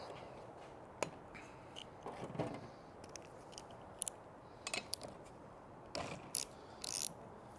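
Spark plug being worked loose from an Echo SRM2620 weed trimmer with a hand tool, giving a few sparse metallic ratchet clicks and scrapes spread across a quiet stretch, close by, with no talking.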